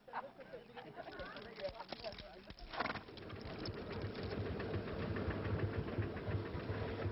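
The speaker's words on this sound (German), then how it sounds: "Mähwerk mit Laufrad lässt die Messer rattern" A horse-drawn mower with a running wheel clatters along, its cutting blades rattling in a fast continuous chatter that grows louder and steadier, with rustling and knocks early on.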